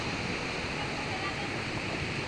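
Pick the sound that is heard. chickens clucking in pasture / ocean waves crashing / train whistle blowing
ocean waves crashing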